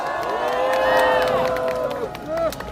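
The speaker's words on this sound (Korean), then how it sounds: "큰 박수로 맞아주십시오." A large outdoor political rally crowd in front of the Constitutional Court in Seoul cheers and shouts loudly, with raised voices rising and falling over scattered clapping throughout.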